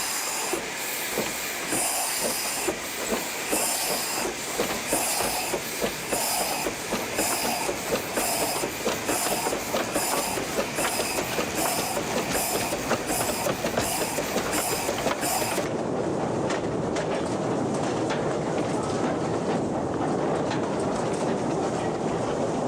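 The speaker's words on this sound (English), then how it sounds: "The train faces forward and once again gets underway." Steam locomotive in China pulling wagons along mountain-valley tracks, with steady hissing steam and rhythmic clickety-clack of wheels running continuously and loudly throughout, the hiss easing somewhat toward the end.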